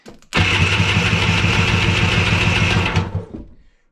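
A mini jetboat engine is cranked on a swapped battery, a loud, close, fast rhythmic churning of the starter that runs for about two and a half seconds before cutting off.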